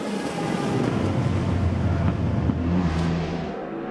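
A racing car in a sports-car endurance race at Mexico City picks back up to speed after a spin in the stadium section, heard as a steady engine roar smeared by heavy wind rumble, with a brief rising whine near the end.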